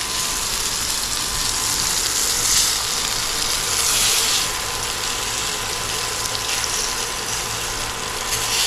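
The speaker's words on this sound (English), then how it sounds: "We're frying up these chops." Pork chops, one of them very large, fry in a pan with a constant hissing sizzle that rises in a few brief louder surges, with no voices over it.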